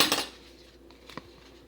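Neon colorant mixed in a container for an outdoor camping cold process soap, a brief rattling clatter of a utensil at the start, then quieter clinks, close by.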